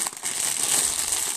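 Gift wrapping paper crinkles and rustles steadily and up close as an Advent calendar present is unwrapped, with no talk over it.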